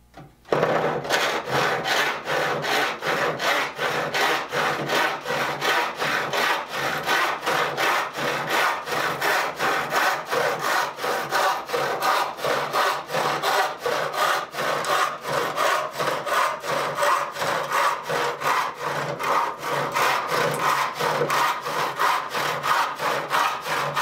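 A restored handsaw cuts through wood in a steady rhythm of rasping push-and-pull strokes, close and continuous, with no talking.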